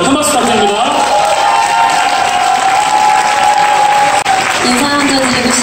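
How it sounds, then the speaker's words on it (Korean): Loud audience applause at a seminar hall welcoming a speaker, dense clapping with a cheering voice and a held tone above it, continuing strongly throughout. "큰 박수 부탁드립니다"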